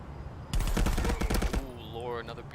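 Gunshots in a first-person shooter game: a fast, loud burst of close shots rattles off for about a second, then fades into softer tonal game sounds.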